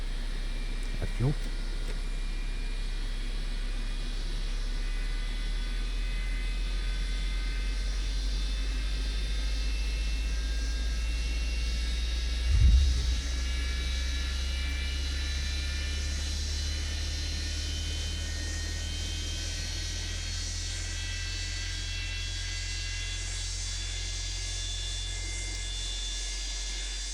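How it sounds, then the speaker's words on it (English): Engine number one of a Boeing 727 spools up on a ground start in Microsoft Flight Simulator 2024, a steady jet whine with rising tonal lines over a low rumble, plus a brief thump partway through. "Let's go to ground start for engine number 1."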